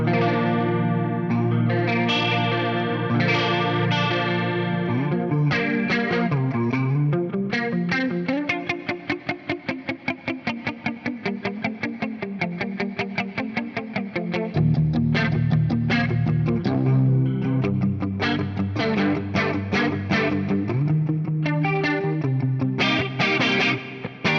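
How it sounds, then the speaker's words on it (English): Clean electric guitar playing chords and melody through an Axe-Fx III Electric Mistress flanger emulation at 1.3 Hz rate, with a sweeping, swirling shimmer across sustained notes, heard alone with no talking. "I've got this Electric Mistress emulation dialed up, which is now my favorite flanger for clean sounds"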